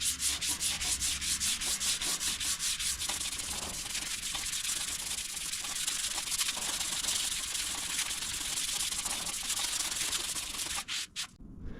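Hand sanding of primer on a car body panel during filler repair preparation, a steady continuous rubbing rasp at close range, alone without speech.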